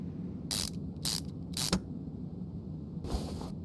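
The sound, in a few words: ratchet tightening a bolt in Car Mechanic Simulator 2021 video game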